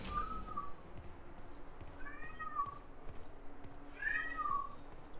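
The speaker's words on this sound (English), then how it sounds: "Shut up, cat." A cat meows several times, drawn-out and somewhat faint, in an otherwise quiet room with light background noise.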